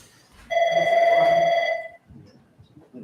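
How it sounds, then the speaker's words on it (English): A telephone rings once in a township council meeting room, a single loud electronic ring lasting about a second and a half, then stopping, leaving faint room noise. "Obviously it's a phone"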